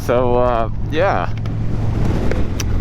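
Strong, steady wind buffeting the microphone at a Maryland back-road motorcycle ride on a Kawasaki Vulcan 1500, a constant low roar running throughout with bursts of talking near the start.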